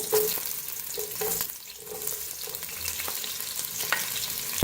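Onions sizzling and crackling in hot oil for green peas pulao, a steady close-up frying hiss with a few stirring scrapes.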